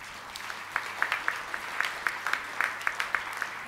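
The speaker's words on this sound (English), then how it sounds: "I think they deserve a special clap" Scattered, moderately faint applause from a small audience at a health ministry AIDS-response address, honouring the NGOs; individual claps stand out in a loose, uneven patter.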